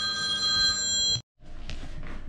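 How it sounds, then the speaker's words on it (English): A telephone rings in a woodworking shop, a steady electronic trill that cuts off abruptly, followed by a short silence and then faint room noise. "that phone ring was my wife calling"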